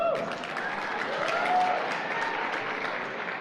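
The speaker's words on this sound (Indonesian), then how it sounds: "Oke Pak, tepuk tangan." A seated audience claps steadily at a lively event, a dense even wash of applause that holds at the same level throughout with faint voices underneath.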